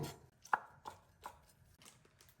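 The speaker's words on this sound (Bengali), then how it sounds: "টমেটোগুলো ছোট সাইজ করে কেটে নিয়েছি" Several sharp knife chops through tomatoes on a cutting board, four or five distinct strikes spaced about a third of a second apart, close and fairly quiet with no voices.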